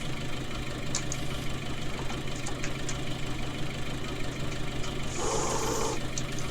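A tractor engine idles steadily in a farming video game, a low, even rumble that holds throughout, with a brief mechanical whine rising near the end.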